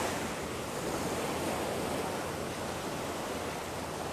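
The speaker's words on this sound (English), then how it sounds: "I like to hear the sound of the waves." Ocean surf rolls onto a beach in a steady, loud wash of breaking waves, continuous and alone with no voices.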